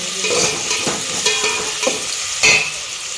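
Tomatoes tossed into frying onions in a pan give a loud, close sizzle. A spatula stirs them in a few rhythmic scraping strokes, the last one the strongest.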